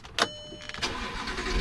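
An Audi R8 starts with a sharp cranking burst, then its engine catches and settles into a steady running hum, heard close with no talking.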